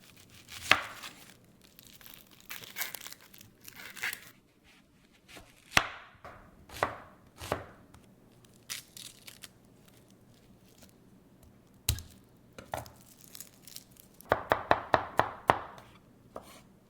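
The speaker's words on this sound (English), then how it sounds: "we're going to chop up 1 onion and 2 cloves of garlic" Knife chopping an onion and two garlic cloves on a cutting board, irregular single chops and short bursts, with a rapid flurry of quick chops near the end, close and crisp with no talking.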